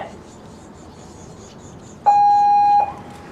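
A race start buzzer at the Royal Canadian Henley Regatta launches the rowing men's senior double: one loud, steady electronic tone holding for under a second, preceded by quiet ambience.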